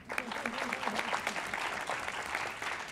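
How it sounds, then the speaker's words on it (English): Audience applause at a national personal finance student competition, steady dense clapping filling the room for about three seconds with a few voices mixed in. "round of applause for our team"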